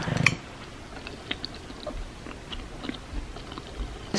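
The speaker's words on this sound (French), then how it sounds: "quand vous le mâchez, ça vient vraiment faire un grincement on va dire au niveau des dents" Someone chews a fast-food burger with squeaky cheese, producing soft, close crunching and biting clicks in an irregular rhythm over near silence.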